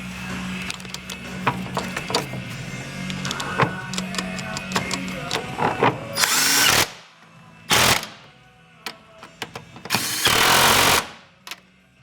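Power tool bursts tightening a bolt on a vehicle's front suspension while fitting an EF camber kit, the fork bottom bolt being torqued to spec: three loud, long buzzing runs over earlier clicks, ratcheting and clanks in a workshop.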